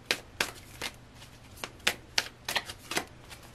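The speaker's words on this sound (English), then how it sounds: "This is the Crystal Visions deck." Crystal Visions tarot deck being shuffled by hand, a series of about a dozen crisp riffling snaps in uneven bursts, close and clear.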